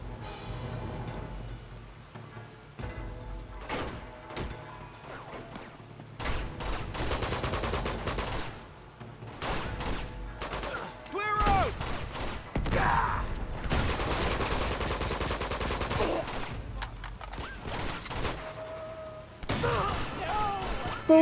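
Shotgun fire during a firefight in the video game Uncharted 2, with repeated loud blasts and bursts of gunfire scattered through the scene, mixed with other game effects and occasional talking.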